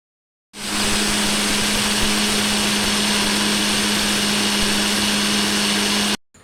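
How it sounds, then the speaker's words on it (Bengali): An electric blender grinding chopped dates and dry ingredients for homemade cerelac runs at a steady high-speed whir for about six seconds, loud and close, starting and stopping abruptly. "এবার আমি একটা ব্লেন্ডারে 1 কাপ করে উপকরণ নিয়ে ব্লেন্ড করে নিব।"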